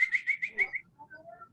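A person whistles a quick run of five or six bright, repeated notes, then trails into softer, lower tones as the sound fades.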